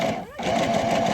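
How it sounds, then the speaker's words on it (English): A battery-powered DC sewing machine runs on an outdoor trail, giving a steady, fast mechanical whir with a brief dip before the motor picks up again. The sound is close and continuous. "What's this? A sewing machine on the trail? It's a DC powered"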